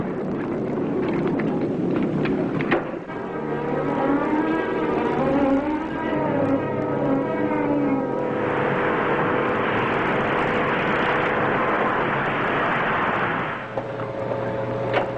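A spaceship blast-off roar effect from a 1954 science-fiction TV serial: a loud, sustained rushing roar that swells midway into a broad hissing blast, with a tonal whine layered underneath, heard alone without talk.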